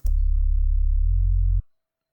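A deep, loud sub-bass note holds, then slides down lower before cutting off abruptly, followed by silence.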